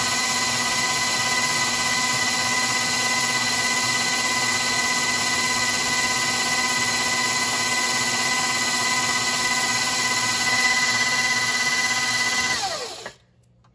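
Electric mixer running at high speed, breaking shortening into flour for pancake mix: a loud, steady motor whine holding for about thirteen seconds before cutting off abruptly near the end, no talking.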